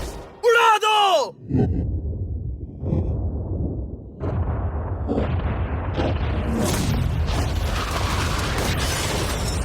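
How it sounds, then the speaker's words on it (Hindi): A brief shout gives way to a loud, sustained explosive roar and rumble as a charge is set off to blow up a yacht, with the blast noise building and lingering for several seconds. "उड़ा दो"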